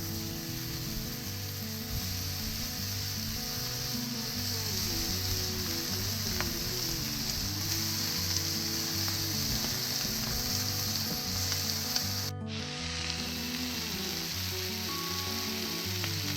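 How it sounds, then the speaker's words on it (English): Steady sizzling of oiled bacon-wrapped bratwurst sausages stuffed with pepper jack cheese on a grill, a constant crackling hiss that continues without talk. "Oh, listen to that sizzle."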